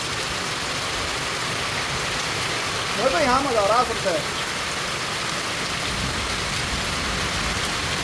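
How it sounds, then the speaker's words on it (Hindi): Heavy seasonal downpour falling steadily, a dense continuous hiss of rain on surfaces that stays loud throughout, with someone briefly speaking over it midway. "बड़ी जबरदस्त बारिश है भाई, इस सीजन की मुझे लग रहा है सबसे तकड़ी बारिश है"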